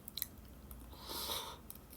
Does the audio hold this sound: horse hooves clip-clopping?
no